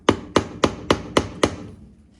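Six sharp metallic hammer strikes on a Honda engine part at a steady rhythm, close and loud, each ringing briefly before the next blow.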